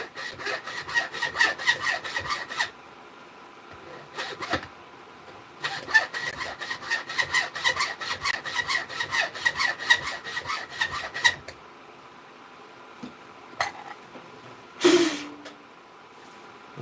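Brass pins on a Buck 110 knife with a ram horn handle are filed down by hand in quick, rhythmic rasping strokes, two long bursts separated by a brief pause, followed by a few isolated knocks.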